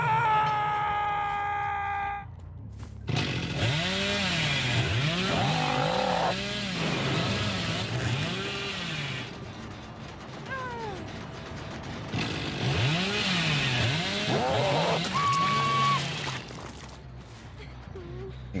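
The Hillbilly's chainsaw in Dead by Daylight revs in two long spells of pulsing, surging engine roar, close and loud, separated by a quieter stretch, with someone talking and groaning over it.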